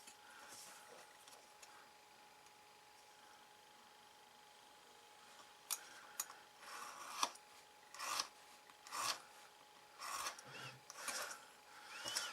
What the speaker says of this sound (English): I've just got to cut the bottom pieces off here. I will use a ruler for this